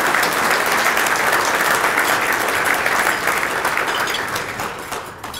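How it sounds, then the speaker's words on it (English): Audience at an economic development group's annual meeting applauding loudly, a thick continuous patter of many hands that holds steady, then begins to fade near the end. "Please join me in a round of applause for thanking all those who take part."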